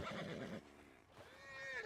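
A horse in Red Dead Redemption 2 lets out a clear whinny, a shrill trembling neigh that rises and falls, fairly close and alone over quiet game ambience.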